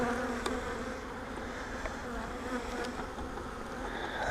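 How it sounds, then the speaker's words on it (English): Honeybees swarm over a hive frame, a dense, steady buzzing drone from many insects close by, continuous throughout with no voices. "There's a lot of bees on it."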